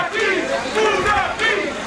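A wrestling crowd at the Mamba Bash 3 War Games event cheers loudly for Jesse Funaki, a dense, sustained roar of many voices with surging shouts that swell and dip over a couple of seconds.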